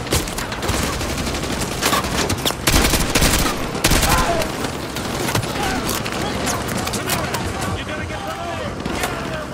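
Heavy gunfire in Call of Duty: Modern Warfare 2 Remastered, a dense crackle of rifle shots and louder bursts filling the scene, with a voice talking over the combat.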